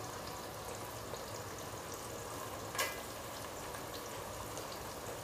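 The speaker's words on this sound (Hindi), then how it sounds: "उसके बाद मटन डालेंगे" Mutton and onions frying in a pan for a dhaba-style mutton do pyaza curry, a steady, even sizzle held at a constant level throughout, close by, with a single brief clatter near the middle and no speech.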